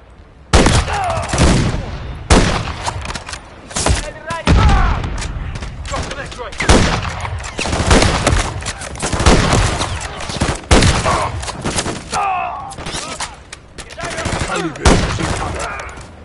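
Dense gunfire in the Call of Duty Modern Warfare 3 video game, loud repeated rifle and machine-gun bursts with booms in a frozen tundra battle, sustained throughout with brief shouted voices.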